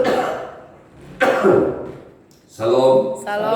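Coughing from a church preacher who apologises for still having a cough, in a couple of short harsh bursts mixed with throat clearing amid his speech.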